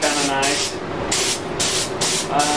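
A spray gun sprays base coat paint in a cabinet shop spray booth, in repeated bursts of loud hissing separated by brief pauses.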